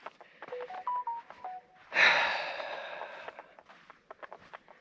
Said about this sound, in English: Clearly you can hear my Teams notification and emails going off